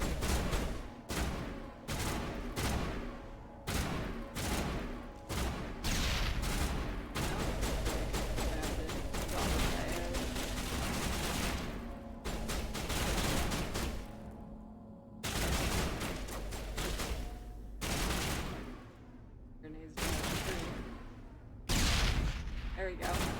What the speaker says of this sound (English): Guys, what are you shooting at?